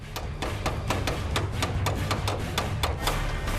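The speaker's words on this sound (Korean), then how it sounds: "망치로 두들겨 가장자리 면의 각도를 살려내는 작업자" Rapid, regular metallic taps ring out as a hammer strikes a steel car body panel to restore the angle of its edge during auto body repair, about four blows per second, close and sharp with no talking.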